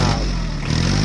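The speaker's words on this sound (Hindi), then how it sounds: "वाह रेसिंग बाइक" Toy racing motorbike engine in a cartoon, a steady, dense buzzing drone held loud and close for the whole moment.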